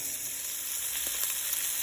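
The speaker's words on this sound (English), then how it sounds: "our gravy is really beginning to sizzle up and thicken up" Oxtail gravy sizzles and thickens in a pan, giving a continuous, even crackling fry with faint tiny pops and no talking.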